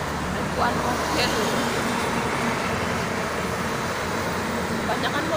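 Dense holiday return traffic of private cars and buses on the Jakarta–Cikampek toll road, a steady, loud roar of engines and tyres throughout with no break.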